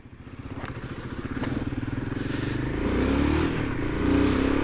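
A Royal Enfield Himalayan motorcycle pulls away in first gear, its single-cylinder engine thumping in a steady, close pulse that rises in pitch and loudness as it gathers speed.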